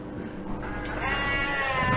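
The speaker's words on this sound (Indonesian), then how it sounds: "Domba ini memiliki keunikan, yakni mempunyai 4 buah tanduk yang tumbuh di kepalanya." A four-horned sheep bleats in a steady, nasal call that swells over a noisy outdoor background, fairly close and unaccompanied by talk.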